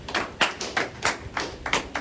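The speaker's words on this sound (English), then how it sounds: "Clap your hands for the King of Kings." A church congregation claps their hands in a steady rhythmic beat during a worship service, a quiet, regular series of sharp claps.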